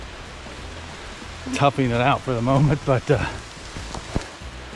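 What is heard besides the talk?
heavy rain falling on a hiking trail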